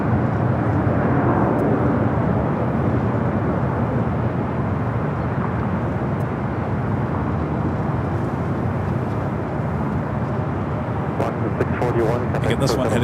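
A departing airliner at Los Angeles LAX airport gives a steady, broad jet roar that holds throughout, with a voice talking over the engine noise.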